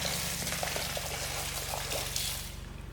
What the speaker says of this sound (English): It's that water cycling through that reel, I think.